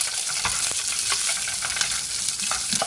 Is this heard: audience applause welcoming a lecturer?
no